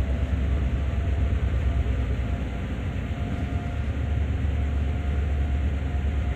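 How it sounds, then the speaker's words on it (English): A long train running on track in Train Sim World, a steady loud low rumble of wheels and engine with broadband roar, continuous and unchanging throughout. "That's a pretty long train we've got going here."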